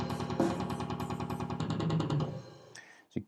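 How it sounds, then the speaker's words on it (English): Programmed drum playback from Guitar Pro notation: a rapid drum fill of even hits that thins out and finishes on a single crash cymbal, heard clean and alone. "stop it here on a crash. So it would sound like this."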